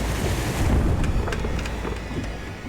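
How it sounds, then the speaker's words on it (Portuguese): Big waves batter the sides of a sailboat at sea, a steady rush of water and wind noise with a louder surge early on and occasional sharp splashes, no voices. "Ondas grandes batiam nas laterais do barco."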